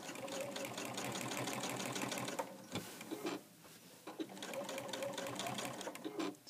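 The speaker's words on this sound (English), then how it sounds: "So I'm sewing along on my binding, going right over the clips." A sewing machine stitches quilt binding held with clips, running steadily and loudly with a fast mechanical whir, pausing briefly in the middle before resuming.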